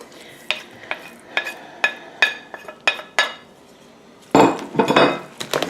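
A spoon stirring chicken and dressing in a metal pot, a run of sharp clinks and scrapes at an uneven rhythm, close and alone, ending in a denser burst of scraping and mixing.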